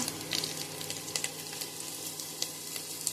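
Garlic paste sizzles and fries steadily in a hot pan for gonguura pulao, a constant bright hiss broken by occasional louder crackles and pops, with no voices.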